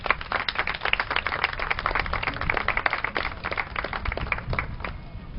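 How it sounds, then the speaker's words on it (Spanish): Sustained audience applause fills a hall at an educational talk on adolescent pregnancy prevention, dense and loud without pause. "a quien recibimos con un caluroso aplauso"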